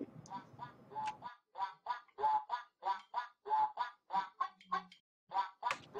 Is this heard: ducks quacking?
yes